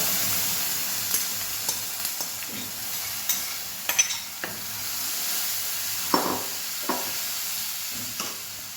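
A soft, steady sizzle of garlic and curry leaves frying in oil, punctuated by scattered scraping and stirring clatters from a utensil in the pan.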